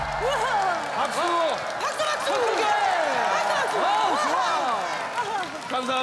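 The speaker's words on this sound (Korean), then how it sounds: "박수!" On a children's TV music show, after a tin-can band's performance, the audience claps steadily for several seconds, mixed with many excited children's voices and cheers.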